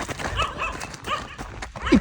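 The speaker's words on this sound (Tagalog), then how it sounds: "Ito, may aso" A dog barks a few short times outdoors at moderate distance, with brief gaps between barks and some background noise.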